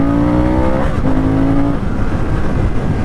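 A Harley-Davidson Sportster S motorcycle engine revs loud and close, the tone rising in a sustained pull, dropping back briefly near the middle and then swelling again into a dense, continuous roar.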